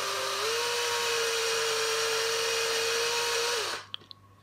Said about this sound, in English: So I'll attach the drill now and have a little look at that.